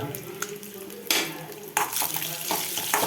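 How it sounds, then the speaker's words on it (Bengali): An egg frying in a pan, giving a steady close sizzle broken by a few louder scraping and clattering bursts of utensil against the pan, with no talking. "ডিমটা প্রায় আমার ভাজা হয়ে গেছে"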